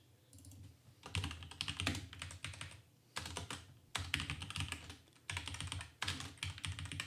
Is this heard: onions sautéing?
no